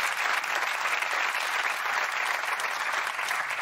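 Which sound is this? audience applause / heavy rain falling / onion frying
audience applause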